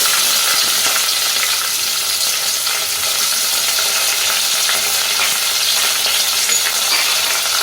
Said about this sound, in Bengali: এবার তেলটা গরম হলে তার মধ্যে দেব পাঁচ ফোড়ন দেব শুকনো লঙ্কা দেব কুচনো পেঁয়াজ